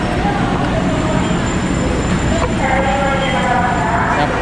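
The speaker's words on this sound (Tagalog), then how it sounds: "So ayan na yung LRT, so sasakay na tayo." An LRT light rail train pulls into a Manila station with a loud, continuous rumble and screech of wheels, steady and close throughout.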